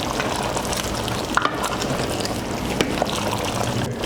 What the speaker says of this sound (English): All right, let's give it a good stir.